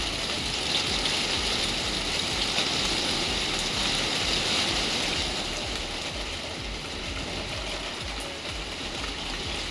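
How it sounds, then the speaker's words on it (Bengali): Heavy rain pours steadily in a dense, constant hiss that eases slightly toward the end, with no voices. "আরো জোরে বৃষ্টি আসলো।"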